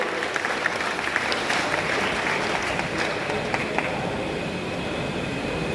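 An audience at an education seminar applauds in a steady, dense wash of clapping that holds evenly from start to finish at moderate loudness.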